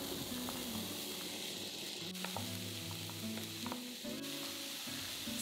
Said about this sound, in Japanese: 熱したフライパンに食用油を入れて、中火で玉ねぎと人参を炒めます。